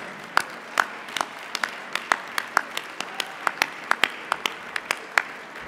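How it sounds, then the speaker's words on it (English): Scattered, uneven clapping from an audience at the 2013 WWEX awards ceremony, with individual sharp claps popping out over a soft room background rather than a dense ovation. "let's have a big round of applause for these three before we announce them"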